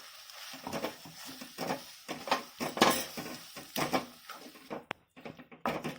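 Ground paste poured into a pan of sautéed tomato and onion for Chettinad onion kosu, with soft patters, splashes and light clinks of a utensil against the pan, close and fairly quiet.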